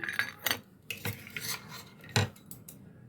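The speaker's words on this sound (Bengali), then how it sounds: "নিয়ে নিচ্ছি আমি এই বড়ো চামচের দুই চামচ বাদাম" A large spoon clinks against a mixing bowl while scooping peanuts, giving a few close metallic knocks and scrapes with soft rattling between them, and no voices.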